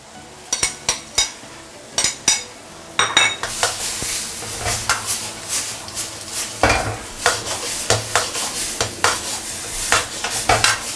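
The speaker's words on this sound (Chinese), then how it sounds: "翻炒它" Eggs with tomato stir-fried over high heat in a wok, as a spatula clanks and scrapes repeatedly against the metal in an uneven rhythm over a steady sizzle, close and loud.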